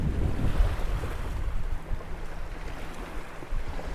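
Wind blowing by a lake, a steady broad rush with gusts rising and falling over low rumbling buffeting, loud and close to the microphone with no talking.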